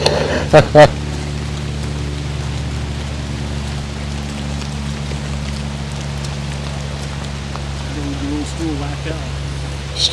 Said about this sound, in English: if the rain keeps falling down